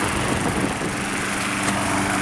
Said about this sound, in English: At least I'm mowing the lawn.